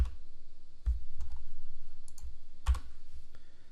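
Enter key on a computer keyboard during an OpenVAS Security Manager install, heard as a couple of sharp, isolated clicks over a steady low room hum.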